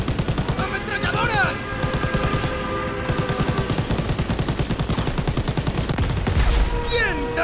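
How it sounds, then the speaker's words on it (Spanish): Rapid machine-gun bursts in Call of Duty: WWII during a fight around a train, loud and rhythmic, with brief gaps between volleys and shouted voices over the fire. "¡Ametralladoras!"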